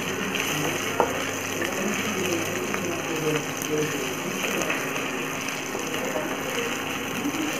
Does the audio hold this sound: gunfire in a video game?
no